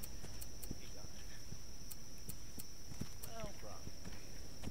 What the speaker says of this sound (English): I'm hearing horses, so I must have another patrol moving in on me